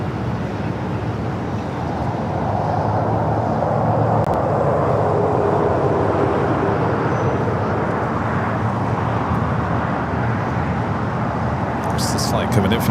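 An American Airlines Boeing 777-200ER pushes back at LAX with a broad, steady jet engine roar and airport rumble throughout. A voice talks over it.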